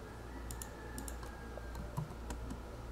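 A password is entered on a computer keyboard: quiet, close keystrokes in small irregular bursts of light clicks over a soft background hum.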